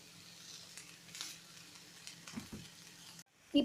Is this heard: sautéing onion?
yes